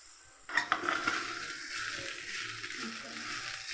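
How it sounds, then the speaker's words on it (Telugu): Cooked rice being stirred and tossed in an oiled pan for chicken fried rice gives a soft, continuous sizzle with scraping and a couple of light utensil knocks at the start. "ఇప్పుడు రైస్ని ఇందులో వేసుకున్నాము"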